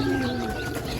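A Chapra pigeon cooing close by, a soft throaty tonal coo held for about a second over a constant background hum.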